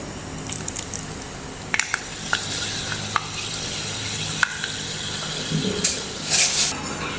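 Whole fenugreek seeds sizzle and crackle in hot oil while being stirred for a fish curry, a steady close frying hiss broken by sharp scraping clicks of the spoon against the pan.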